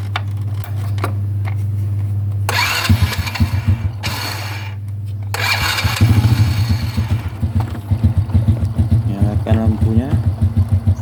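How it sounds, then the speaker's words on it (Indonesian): A motorcycle engine starts up and settles into a steady idle close by, with some mechanical clatter before it catches; a voice speaks briefly underneath. "Coba kita nyalakan motornya."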